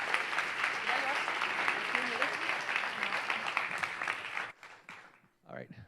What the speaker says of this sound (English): Give a round of applause to Cece